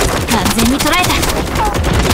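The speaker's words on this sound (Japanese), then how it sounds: "銃声が聞こえた。" Rapid gunfire crackles in a video game, a dense, loud burst of shots with other game sounds mixed in throughout.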